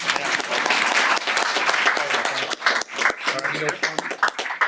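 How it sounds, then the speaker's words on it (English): Applause from the audience at a school board meeting for a state representative, brisk clapping that thins toward the end while voices talk over it. "We can clap for Kyle."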